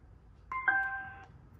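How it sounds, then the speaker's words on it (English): A Bluetooth connection chime from a magnetic levitation UFO-shaped speaker being set back onto its base: a short two-note electronic tone, rising then held, about three-quarters of a second long, moderately loud over a quiet room. "what you're hearing is the Bluetooth going on and off"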